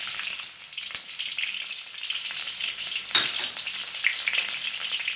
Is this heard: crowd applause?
no